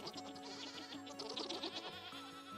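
Faint bleating of sheep in the survival video game Vintage Story, a few wavering cries over a soft ambient music bed and low hum.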